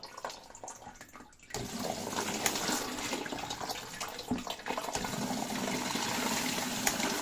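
Water rushes into the middle compartment of a washing machine's detergent drawer, a steady splashing flow starting suddenly after a quieter moment, close with no talking.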